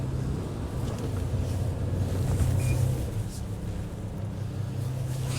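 A Sunseeker Predator 75 motor yacht, with 3,800 horsepower of engines and bronze propellers, under way at gentle speed: a steady low engine drone and rushing water with wind buffeting the microphone, continuous and fairly loud.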